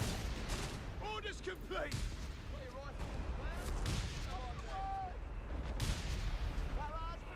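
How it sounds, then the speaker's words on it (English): A mortar barrage in Company of Heroes, with distant booms and impacts rumbling under battlefield noise and a short in-game voice line. "They got a mortar. Mortar can keep beat barraging."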